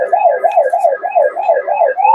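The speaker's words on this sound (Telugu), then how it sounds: "ఒకసారి ఆన్ చేసి చూపిస్తాను పోలీస్ సైరన్ ఎలా వస్తుంది" A toy battery-powered jeep, a mini Thar model, sounds its police siren electronically: a loud, close, rapidly repeating wail that rises and falls about eight times without pause.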